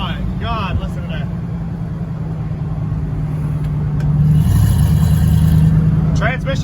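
A turbocharged 6.0 LS V8 fitted in a Dodge Caravan, paired with a 4L80E transmission, drones loud and steady from inside the van, and its pitch swells as it revs, while someone talks over it.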